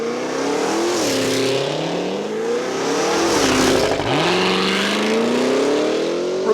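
A 2023 Cadillac Escalade-V, a three-ton SUV, launching hard with launch control: a loud, close engine roar climbing through the gears, with brief dips at each shift before rising again.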